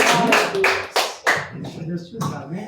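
A church congregation claps for the Lord in bursts, several loud waves of handclaps rising and fading, with voices mixed in.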